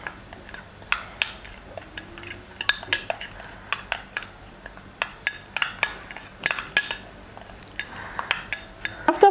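A turmeric remedy mixed in a bowl, with quick irregular clinks and taps of a spoon against the dish repeating close up through the whole stretch, no talking.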